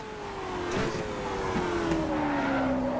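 Race car engine revving hard in a Ford versus Ferrari racing video game at Daytona, a loud sustained high-rev whine that slowly drops in pitch, with brief tire-squeal and shift sounds along the way.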